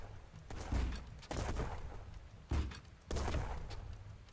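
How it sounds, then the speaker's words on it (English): Cannon fire in the airship combat video game Black Skylands: four or five heavy, booming blasts at irregular intervals, each with a rumbling tail, loud and close, with no talking over them. "No, it's a cannon."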